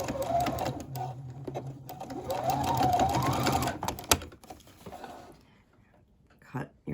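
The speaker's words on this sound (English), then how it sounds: "Make sure you back stitch" A sewing machine back stitches through thick cloth mask layers with a filter, a close, steady mechanical whir that rises and slows over several seconds before stopping, followed by quiet.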